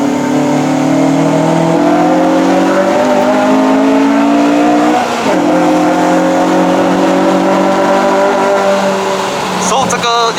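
A 2010 Honda Civic Type R FD2R revs hard on a mountain climb, its high-revving engine climbing through VTEC in steady rising pulls with a brief shift dip midway, loud and constant from inside the cabin while people talk over it.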